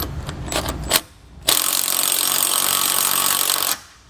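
A socket is driven to tighten the bolts on a Blue Ox TrackPro weight distribution hitch. A few short clicks and taps lead into a loud, steady mechanical whir lasting about two seconds before it stops.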